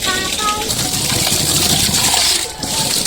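Water gushes steadily into a small baby tub used as a paddling pool on a hot day, a continuous loud splashing flow with a voice faintly over it.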